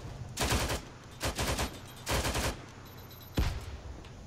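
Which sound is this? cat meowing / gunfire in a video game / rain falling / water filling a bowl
gunfire in a video game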